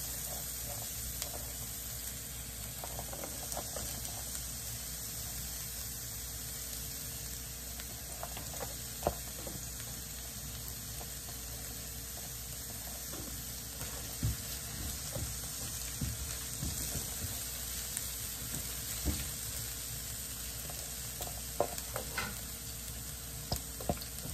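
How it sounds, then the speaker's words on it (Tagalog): Garlic sautéing in a pan for a Filipino pinakbet dish, a steady broadband sizzle running throughout with occasional scraping stirs, fairly close and even, with no talking. "At igisa na natin ang ating bawang."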